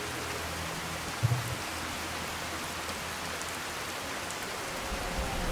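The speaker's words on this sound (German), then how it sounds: "Natürlich regnet's." Steady rainfall in the video game Fallout 4, an even hiss of drops on surfaces throughout with a brief low thump near the start.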